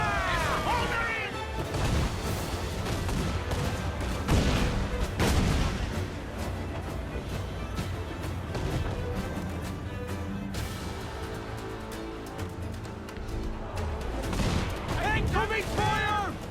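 Cannons boom in a naval battle in Assassin's Creed 4: Black Flag, with repeated loud volleys, crashes and rumbling fire continuing throughout, while crew voices shout beneath.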